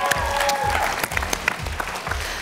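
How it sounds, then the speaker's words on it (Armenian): Studio audience at an Armenian X-Factor gala show breaks into loud, dense applause that holds steady throughout, with music underneath. "Ես ուզում եմ, որ մենք իսկապես բարձր ծափահարենք Նիկ Եգիբյանին"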